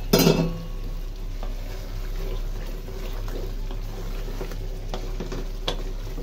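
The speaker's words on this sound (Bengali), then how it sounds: "আলুটা দিয়ে দিই, আলুটা দিয়ে একটু নাড়াচাড়া করে" Potatoes being stirred into a duck meat curry in a pan give soft scraping and a low sizzle that continue steadily after a brief loud clatter at the start, with no talking.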